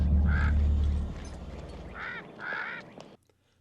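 Parrot in a scene from Halloween 5 squawking in a few short, harsh calls over a low rumbling background, fairly close, ending in quiet.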